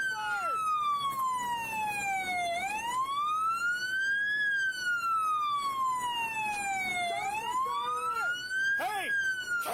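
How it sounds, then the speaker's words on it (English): Police car siren wailing continuously, a loud electronic tone sweeping slowly up and down in long cycles, close and steady throughout, with faint engine noise beneath. "Hey, turn off the siren."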